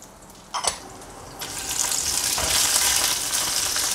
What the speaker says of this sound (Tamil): இதையும் நல்லா வதக்கிடுங்க.